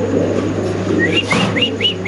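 Spanish pigeons at a pigeon farm give a run of short rising calls, four or five in quick succession over a steady low hum, close and fairly loud.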